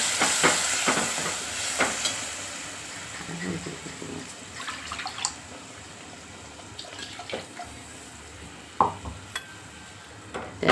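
Water from a mixer jar poured into oily, cooked masala in a pan for a spicy bangda fish curry, giving a clattering, stirring hiss with scattered knocks and brief sharp bursts, close up and moderately loud.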